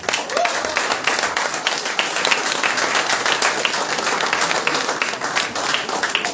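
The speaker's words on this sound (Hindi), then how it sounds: "जोरदार तालियां" Audience applause at an Uttarakhand stage performance, with steady clapping that holds at an even level for the whole stretch and no voices over it.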